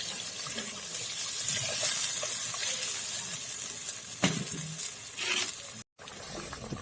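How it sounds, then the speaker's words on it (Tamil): Water is poured into a pan of fried chicken while making a Tamil pichipota kozhi fry, a close, steady splashing rush with a few clatters and a brief break near the end. "இப்போ தண்ணி ஊற்றிக்கணும்."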